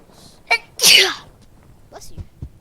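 A single loud, close sneeze with a sharp intake and forceful burst, followed by a few quieter vocal sounds and small knocks.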